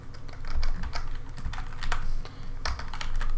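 Steady typing on a computer keyboard, close clicking keystrokes in an uneven rhythm continuing throughout.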